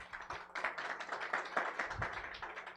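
Audience applause at a conference session on resilience financing: a steady crackle of many hands clapping, moderately distant and even, continuing without voices.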